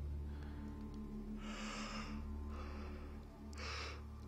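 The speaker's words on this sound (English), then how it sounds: "Sorry for my yawning." A person yawning during a relaxed gaming session, three drawn-out breathy exhalations rising and falling over a steady low electrical hum, no words spoken.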